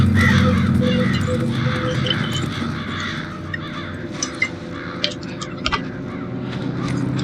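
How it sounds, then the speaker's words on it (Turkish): Crows caw repeatedly at a helicopter crash site in the video game Resident Evil 5, loud harsh calls over steady ambient game sound with a few sharper nearby caws. "Ah sıçtık kargalar."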